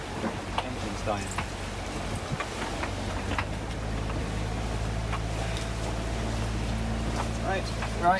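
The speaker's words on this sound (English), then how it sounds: "Engine's dying." A sailboat's engine at sea in the Pacific runs unevenly as it begins to fail, a low rumble that sags and shifts under wind buffeting on the microphone and splashing water.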